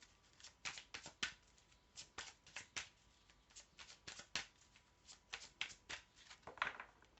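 Tarot cards shuffled by hand in a quiet room: crisp, close riffling bursts and slaps in an uneven rhythm, repeated many times before the deck is cut.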